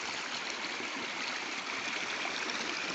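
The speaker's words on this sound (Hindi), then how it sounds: "ये चट्टानों से बहता हुआ ये झरना" A waterfall stream spills over rocks in a steady, full rushing roar of water, constant and close with no pauses or voices.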